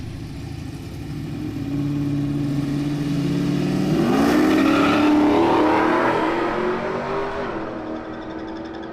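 A third-generation Camaro street car revs and accelerates hard at a street car racing event, a loud engine building from a low rumble into a rising wail that peaks midway and then fades as it pulls away, no talk.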